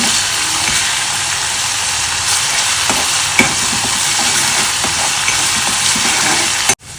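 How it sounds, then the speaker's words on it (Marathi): Crushed garlic and ginger fry in hot oil for a Bombay duck curry, a loud, steady close-up sizzle with a few scraping stirs and a sharp clatter near the end. Nobody speaks. "त्याच्यामध्ये मी ठेचलेलं लसूण अद्रक टाकते थोडंसं परतून घेते"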